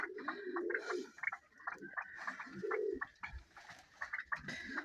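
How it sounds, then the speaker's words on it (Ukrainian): Pigeons coo softly and repeatedly nearby, low rolling calls coming in uneven bursts with brief pauses between. "У вашому вольєрчику голуби лишаються там."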